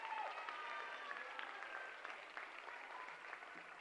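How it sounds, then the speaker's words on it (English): Steady audience applause fills an awards night hall for a scholarship recipient, a dense, even wash of clapping at moderate level that holds throughout without speech. "So please give me a round of applause"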